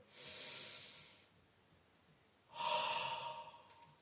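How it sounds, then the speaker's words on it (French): Two breathy exhalations through an open mouth during a Pilates exercise, each lasting about a second with a soft airy hiss, separated by a quiet pause. "Vous expirez bouche ouverte."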